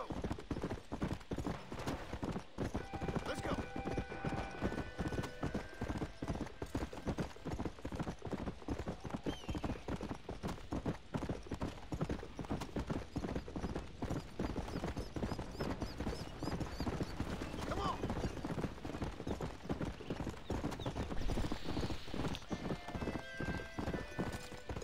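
Horse hooves clip-clopping at a steady ridden gait in the video game Red Dead Redemption, a continuous rhythmic trot with an occasional whinny and faint hum behind.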